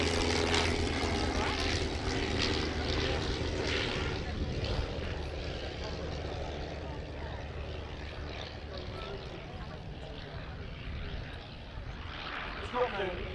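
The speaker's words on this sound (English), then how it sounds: "Characteristic blipping sound on the, in this case, 9-cylinder Le Rhône 9J rotary engine of 110 horsepower as the Avro 504K comes into" Avro 504K First World War trainer biplane with a 110-horsepower nine-cylinder Le Rhône 9J rotary engine, droning loudly at an airshow and gradually fading as it passes, with a commentator talking over it.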